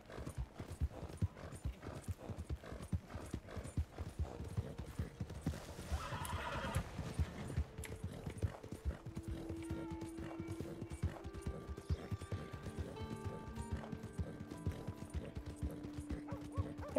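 Horse hooves clop in a steady trotting rhythm throughout the Western game Red Dead Redemption 2, with a horse's whinny partway through, all fairly quiet under a soft ambient background.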